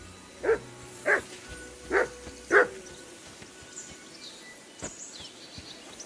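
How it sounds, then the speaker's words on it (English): Dog barking in Kingdom Come Deliverance 2, four loud, evenly spaced barks in the first three seconds, then only faint background sounds. "assume you can hear that damn dog of yours barking"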